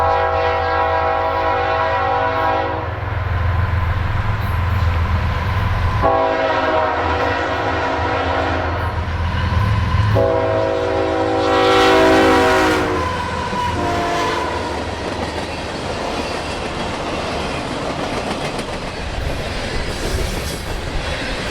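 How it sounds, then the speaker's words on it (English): A CSX northbound manifest freight train rolls past near the Alabama Gulf Coast Railway Bridge, its horn sounding in several long, loud blasts over a steady rumble of wheels and cars, with a rising squeal and clatter as it passes close by. "we saw another CSX northbound manifest roll through"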